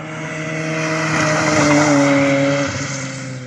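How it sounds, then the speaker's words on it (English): A Honda Civic Type R EP3 approaches on a race track through the S-bends at Cadwell, its engine note a loud rising drone that swells toward a peak and then starts to fade, with no talking. "I can hear an ep3 coming"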